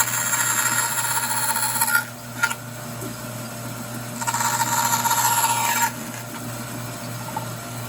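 A hand saw cuts a square piece out of a plywood box in two bursts of rapid, raspy strokes close by, separated by a short pause, over a steady low background hum.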